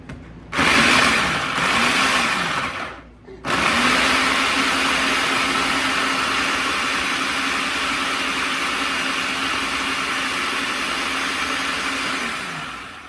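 A blender grinds tomatoes with their skins on for Creole chicken and rice. A short burst of loud motor whir cuts off briefly, then a long, steady grinding run follows at close range with no talking.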